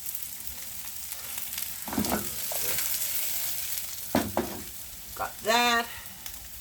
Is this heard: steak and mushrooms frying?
yes